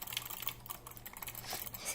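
A computer mouse is clicked very rapidly using the refill technique for gaming, producing a dense, steady stream of quiet, close clicks for the full duration with no voices.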